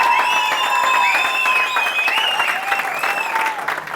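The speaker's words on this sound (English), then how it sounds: "Round of applause for yourselves" Loud, sustained clapping from a live audience, mixed with bright tonal sounds like whistles or cheering, the applause holding steady then thinning slightly toward the end.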